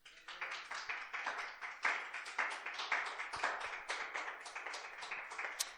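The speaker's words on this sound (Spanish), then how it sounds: "Denle un aplauso a Jesús" A church congregation claps at a sermon, soft and somewhat distant, settling into a fairly regular rhythm of hand claps that continues throughout.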